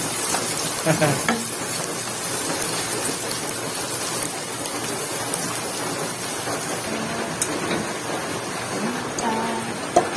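Chicken feet are stirred in a pan, giving a continuous sizzle with scraping and stirring noises, and a few louder clatters come through over the frying.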